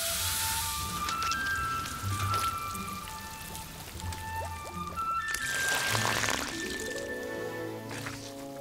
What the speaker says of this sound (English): A bowl is filled with slow-boiled rock sugar water.